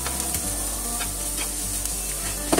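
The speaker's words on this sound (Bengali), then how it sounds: "আমার পেঁয়াজ ভাজা হয়ে গেছে প্রায়, এখন আমি 1/2 কাপ পেঁয়াজ পেস্ট দিয়ে দিলাম।" Onion paste added to onions already frying in a pan for a Bengali rohu fish kalia sizzles steadily, with occasional stirring scrapes and a few sharper knocks near the end, no voices.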